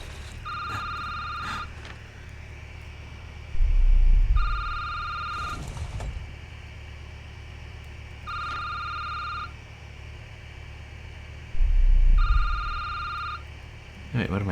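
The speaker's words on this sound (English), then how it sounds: "I should get the phone." A telephone rings in a cosmic horror video game, four evenly spaced electronic trills over a low ambient hum, with occasional thuds between them and no speech.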